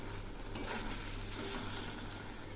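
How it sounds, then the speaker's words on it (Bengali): Taro pieces frying in oil with salt and turmeric are stirred in a pan, giving a steady close sizzle that brightens into a louder crackling hiss partway through, with no voices. "এখন আমি এগুলি নেড়ে দিচ্ছি।"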